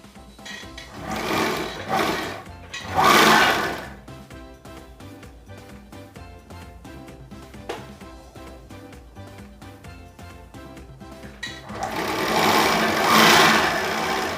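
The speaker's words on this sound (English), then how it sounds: "And I will sew around here" Serger stitching around a baby turban cap, loud buzzing runs in short bursts at the start, then quieter ticking and a final strong surge.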